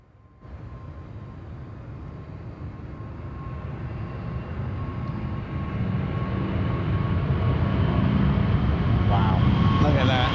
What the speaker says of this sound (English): I think this will be the last takeoff of this very busy plane spotting week.